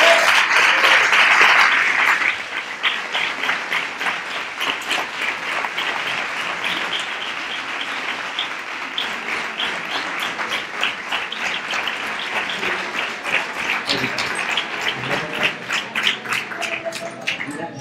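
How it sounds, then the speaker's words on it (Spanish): A crowd at a Three Kings proclamation and coronation event in Nerva gives strong, sustained applause, loud dense clapping that continues for many seconds and swells again toward the end. "¡Fuerte el aplauso para él!"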